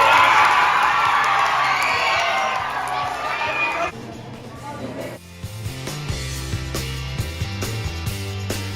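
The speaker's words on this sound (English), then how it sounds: "let's give a big round of applause for all our contestants" Students at a K-8 school assembly cheer and whoop loudly as a crowd for about four seconds. The noise then cuts away to quieter, tonal sounds with scattered voices.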